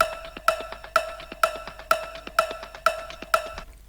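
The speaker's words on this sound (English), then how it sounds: "the perk loop and the cowbell" An electronic percussion loop with a bright, ringing cowbell repeats steadily, the cowbell striking about twice per second over a ticking beat, clear and alone with no voices.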